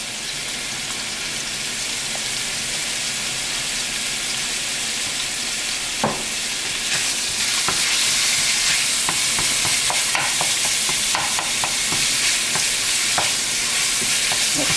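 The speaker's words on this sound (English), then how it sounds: "Let's cook that up until it gets brown." Egg roll filling seasoned with pepper and salt frying in a pan, a loud, steady close sizzle with intermittent scraping and stirring clicks from a utensil, growing slightly louder partway through, with no talk.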